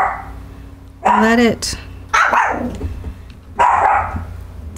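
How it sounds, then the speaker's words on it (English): Several dogs bark in short, loud bursts indoors, three distinct outbursts spread across the moment, while someone talks over and between them. "Sorry, my dogs are barking at this."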